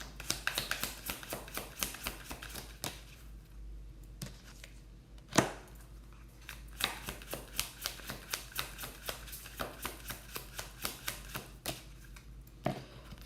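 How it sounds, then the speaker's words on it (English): Tarot cards are shuffled by hand in quick, crisp riffles and taps close by, with bursts of rapid flicking, a brief pause, then a steady run of sharp card snaps. "You just saw me shuffle and these two cards came out."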